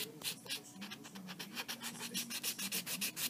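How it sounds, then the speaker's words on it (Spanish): A nail file rasps back and forth across a fingernail in quick, even strokes, close and distinct, with a steady scratching rhythm and no talk. "Ahora voy a limar mi uña"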